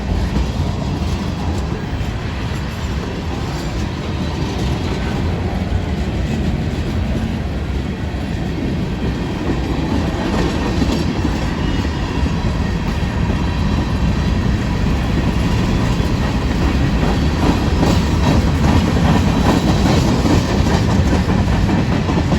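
A freight train powered by big old GE locomotives rolls past in Aberdeen, North Carolina, with continuous wheel rumble and clickety-clack over rail joints that build slightly louder toward the end.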